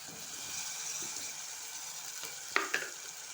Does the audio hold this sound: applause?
no